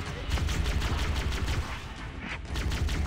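Rapid bursts of plasma rifle fire in the Halo shooter game, a steady run of quick repeated shots at moderate loudness with a short lull partway through.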